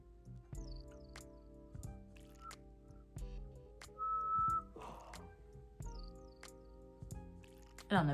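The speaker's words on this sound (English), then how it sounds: "you guys got to witness me whistle for the first time in my life" A person tries to whistle for the first time during a makeup routine, producing one steady, fairly clear whistled tone lasting about half a second in the middle of quiet room sounds, with a few small clicks and rustles around it.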